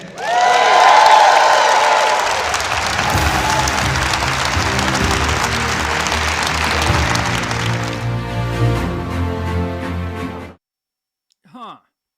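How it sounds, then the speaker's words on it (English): A political rally audience cheers and applauds loudly in a dense, sustained roar of clapping and shouting that swells, then cuts off abruptly near the end before a brief voice. "let me hear you cheer for that"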